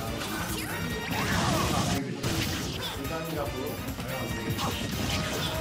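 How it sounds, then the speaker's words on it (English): A forward smash attack lands in Super Smash Bros. Ultimate during a school tournament match, a crashing hit buried in dense game effects and music, with a commentator talking over it throughout. "Good F smash from MP3"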